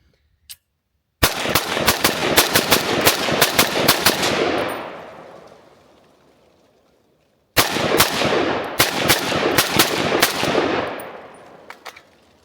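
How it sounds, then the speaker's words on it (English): Two long strings of rapid gunfire from an ATI AT-47 AK-pattern rifle, loud and close with sharp cracks and a ringing tail; the first burst runs about four seconds, then a pause, then a second burst. "I also have been shooting it pretty quickly just to have some fun with it and rip it."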